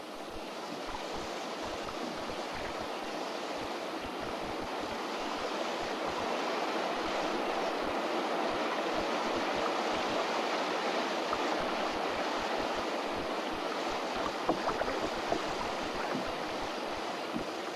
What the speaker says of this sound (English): The turbulent Bahorok River marks the boundary.